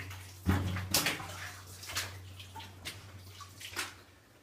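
Water splashing and sloshing as someone wades through a flooded passage in an old gold mine, irregular close splashes with drips, loudest at the start, in a reverberant underground space.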